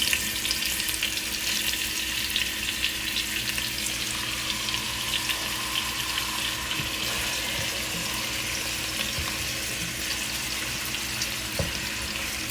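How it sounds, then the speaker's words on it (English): Oxtails and other beef frying in a pan give a steady, close sizzle that holds at an even level throughout, with occasional faint clinks and no talking. "I'll fry this down."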